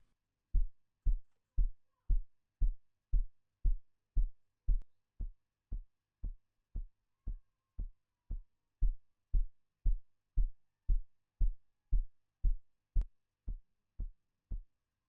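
A kick drum thumps in a steady, evenly spaced pulse, about two hits per second, deep and punchy, with slight changes in tone and weight between passes as an EQ plugin is bypassed on and off in a gospel drum mix.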